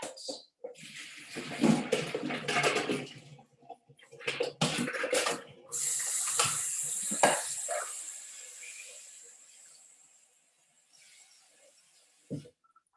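Cold tap water runs into a container holding hot water in a kitchen, a splashy gushing stream that starts, stops and restarts amid clattering handling noises, then fades to quiet before a final clunk; no words spoken.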